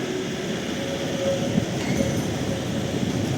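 A train rolls past in winter Lviv, a steady continuous rumble of rail cars with faint rhythmic clatter, fairly loud and close, without talk.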